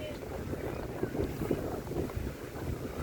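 Gusty wind buffets the microphone in a constant low roar on a cruise ship deck, with faint voices murmuring underneath.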